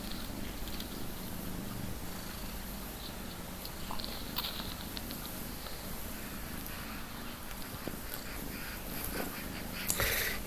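A cat purrs close up in a steady, rumbling rhythm for several seconds, with small shuffling sounds near the end.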